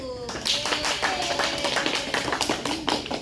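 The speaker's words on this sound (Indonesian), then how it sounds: "silakan teman-teman bisa tepuk tangan untuk kelompok 1" Classmates clap for a group after its class presentation on genetic engineering, a light, scattered patter of hands from a small room that runs through the moment, with some talk mixed in.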